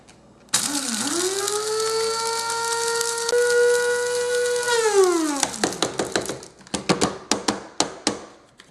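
An electric grinder blends curry leaf and whole spices for homemade garam masala, a loud steady motor whine that spins up, holds for about four seconds and winds down, followed by a run of sharp rattling clicks as the jar settles.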